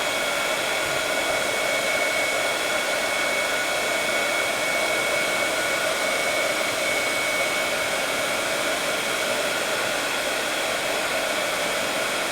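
A handheld craft heat tool blows steadily for the whole stretch, melting embossing powder on an art journal page, a constant loud fan-and-heater whoosh with no pauses and no voices.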